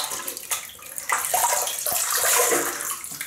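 Water running and splashing as a face is wetted before shaving, close and continuous with irregular splashes from the hands.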